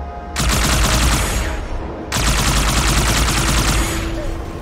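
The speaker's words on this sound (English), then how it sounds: "Plasma cannon." Two long bursts of rapid, crackling plasma cannon fire from Halo blaze loudly, one after another, with a brief gap between them.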